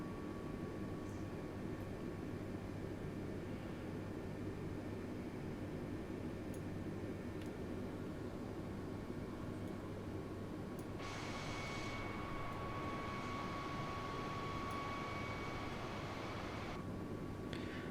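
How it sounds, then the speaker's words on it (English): Steady engine drone and cabin hum of an Airbus A320neo in flight in Microsoft Flight Simulator, a constant low rumble with faint higher tones and brief soft chimes. "The sounds of this Airbus as well sound amazing"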